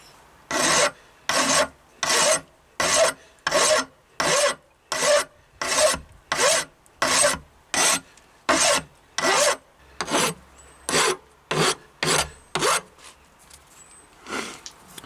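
A hatchet head is being hand-filed across its back to take off scars, about seventeen steady, evenly spaced rasping strokes close by with no talking, then a brief pause and a few light scrapes at the end.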